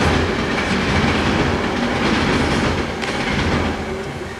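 A train rolling past on rails, a loud, dense and continuous rumble with clickety-clack wheel noise, heard up close without any voices.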